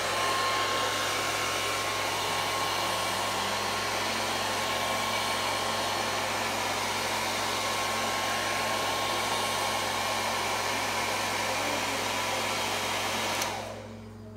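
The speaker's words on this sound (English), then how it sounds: "use the blow dryer to straighten it out there and put some heat on it" A blow dryer used with a round brush to straighten 3c natural curly hair roars in a steady, loud, continuous whoosh with a faint tonal whine, then cuts off abruptly at the very end.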